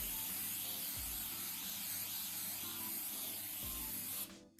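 A steady aerosol spray hisses continuously for several seconds close by while spray painting a bottle, then cuts off abruptly near the end.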